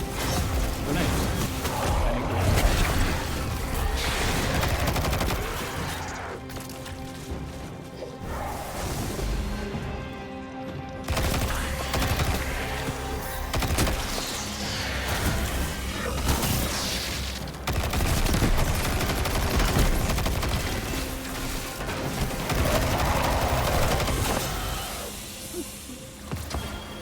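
Gunfire and grenade blasts in Destiny 2 played as a Warlock on Xbox Series X, loud and continuous with rapid bursts, booms and mechanical clatter across the whole stretch.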